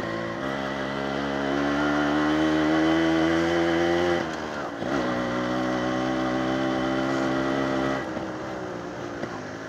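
A chopped Yamaha RX135 motorcycle with an underbelly exhaust runs close by, holding a steady, buzzing two-stroke idle and then dipping and rising in brief throttle blips.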